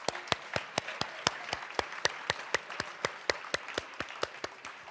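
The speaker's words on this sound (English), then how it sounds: "Round of applause to you all." An audience at a dinner event applauds, steady clapping of a modest crowd heard at a moderate distance in a large room, with distinct individual claps standing out in a rhythmic stream.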